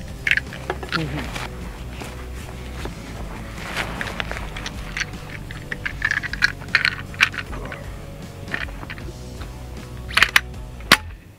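A BIN TAC S45 semi-auto air rifle loaded with heavy 200-grain pellets fires at a target: a few sharp snapping shots, mostly near the end, under a person talking.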